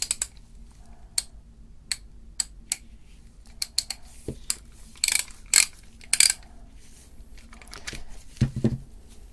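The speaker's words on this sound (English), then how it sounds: "I think this mechanism is definitely way newer than the rest of the ratchet, but it works" A Belzer 8150 ratchet with a newer mechanism clicking, scattered sharp ticks and short ratcheting bursts of varying spacing, close and dry, with some handling knocks and no speech.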